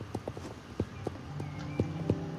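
Hooves of a pony in the video game Star Stable Online clip-clop at a lively, uneven pace, crisp and close, with a faint tonal game ambience beneath.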